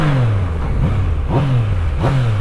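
A Yamaha MT-09 motorcycle engine revs loudly and close, its pitch rising and falling in repeated swells over a steady running drone.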